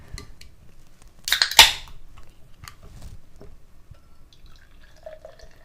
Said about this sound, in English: I'm going to pour it into a Nonic pint glass I got here.